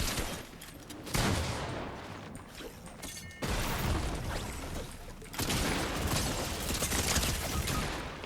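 Rapid-fire gunfire bursts in the video game Fortnite, dense crackling volleys of automatic shots that surge loudly, pause briefly and resume, filling the foreground.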